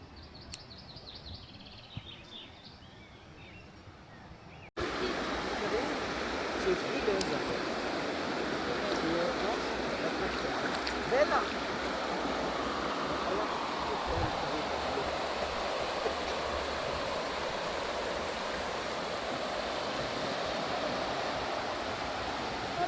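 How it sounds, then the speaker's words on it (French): A river runs past beside a lake on a nature walk, heard as a steady broadband rushing of water that starts suddenly after a quieter opening and continues evenly, with faint birdsong and brief voices in the quieter opening. "Et là de l'autre côté il y a une rivière qui passe également."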